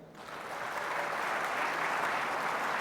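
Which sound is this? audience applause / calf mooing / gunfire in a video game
audience applause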